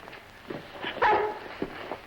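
A dog in a 1953 film comedy gives a few short barks and yips close by, scattered across a brief stretch, with one louder bark in the middle.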